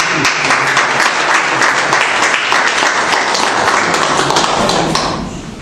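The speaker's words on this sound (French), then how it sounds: "j'aimerais qu'on puisse les applaudir." Audience applause at a Senegalese youth political party gathering during an Eid celebration: dense, steady clapping from a sizeable crowd lasting about five seconds before tapering off at the end.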